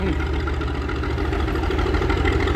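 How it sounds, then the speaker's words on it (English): A 175 hp Cummins straight-six in a General Electric-built locomotive idles with a steady, close, loud diesel rumble, an even throb that holds unchanged throughout. "175 horsepower, Cummins straight six, General Electric built locomotive"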